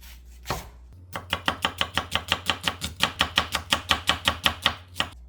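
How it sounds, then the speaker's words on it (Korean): A knife slices through an onion on a cutting board in a quick, even rhythm of about two dozen crisp taps, close up with nothing else heard. "하나는 이제 갈고 하나는 채 썰어서 넣겠습니다"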